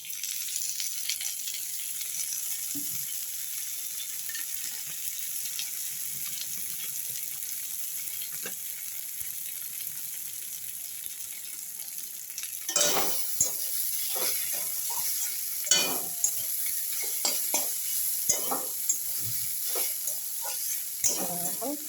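Radish greens frying in oil, cooked with matar dal, making a steady sizzle throughout, with stirring and scraping of a spatula in the pan in the second half.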